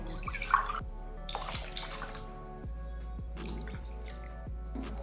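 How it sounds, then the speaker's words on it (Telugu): Water trickles and drips into a pot of soaked rice for corn palak rice. It comes in quiet, uneven splashes and drips close by, with no talk. "1 గ్లాస్ బియ్యానికి 2 గ్లాసులన్నర నీళ్ళు వేసుకోవాలి."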